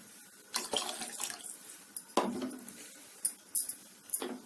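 Water is poured into a pan of tomato and black pepper rasam in short bursts, with splashes and faint clinks of a utensil against the vessel and no voices.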